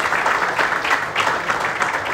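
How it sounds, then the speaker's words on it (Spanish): Steady applause from an audience at a Dominican awards ceremony honoring baseball star David Ortiz, dense and continuous clapping throughout with no voices standing out. "por quien pido nuevamente un fuerte aplauso"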